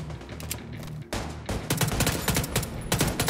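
Automatic gunfire from the video game The Division 2 during a co-op fight, with rapid bursts of sharp shots rattling close and loud, broken by a brief pause before denser volleys resume.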